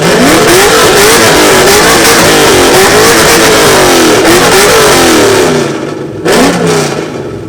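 A car's exhaust revs hard at an exhaust competition during an F-body gathering, loud and sustained with rising and falling engine pitch, then a drop and a final short blip near the end.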